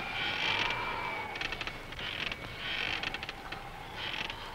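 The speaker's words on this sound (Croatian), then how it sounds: "Dobro je u luci slušati škripu konopa." Mooring ropes on boats tied up in a harbour creak in long, strained drawn-out groans, repeating every second or so, fairly close over a steady wind-like background with no talk.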